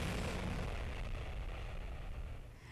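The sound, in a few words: Boeing 787 Dreamliner jet departing airport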